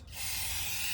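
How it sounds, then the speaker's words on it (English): A metal wire brush scrubs a car brake hub on a 2009 Toyota Camry during rotor and pad replacement, making a brief, dense, continuous scraping rasp up close with no voices. "And use a metal brush."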